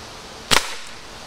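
A single sharp gunshot fired at chocolate-covered nuts, one loud close crack that decays quickly into a quiet background.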